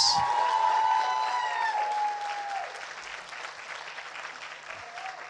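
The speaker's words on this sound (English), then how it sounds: "How about we give all these guys and girls a massive round of applause?" Audience applause at a church celebration service, a dense steady clapping that swells at the start and gradually tapers off, with crowd noise and some voices and whistles mixed in.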